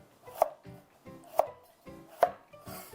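A knife chops through the edges of a carrot on a cutting board, three distinct, evenly spaced thuds close by with no talking.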